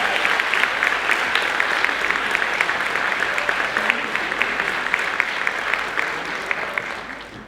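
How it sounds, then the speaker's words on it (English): Sustained audience applause at a high school senior recognition night, steady dense clapping from a large crowd that holds for the whole stretch and eases slightly near the end. "Another round of applause for all 14 recipients."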